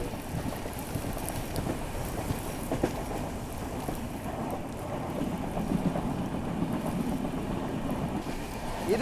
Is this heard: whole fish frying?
no